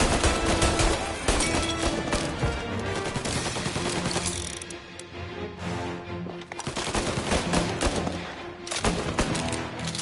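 Sustained gunfire from a shootout in Mafia Definitive Edition, dense bursts of automatic and single shots rattling continuously and loudly throughout with a busy game mix, briefly thinning midway before resuming.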